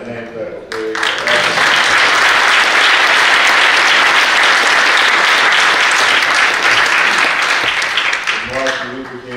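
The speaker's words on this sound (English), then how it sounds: "Give them a hand clap." Audience applause at a Martin Luther King Jr. holiday celebration swells to a loud, sustained roar of clapping from a large crowd, with brief voices or music at either end.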